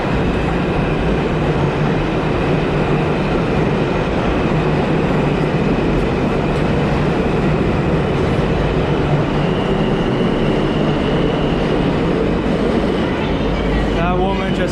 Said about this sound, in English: here's a Brooklyn-bound R train making its way into the station